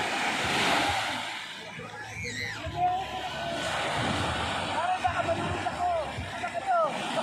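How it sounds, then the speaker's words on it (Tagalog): Strong surf rolls in at high tide on a beach, a steady wash of crashing waves heard under nearby voices and excited shouting. "malakas ang alon. Dahil parang mag-high tide na."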